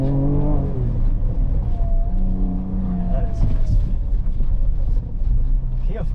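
A Ford Ranger Raptor in off-road mode is driven over rough, bumpy terrain, its engine giving a steady low rumble with some humming tonal notes while people talk over it throughout.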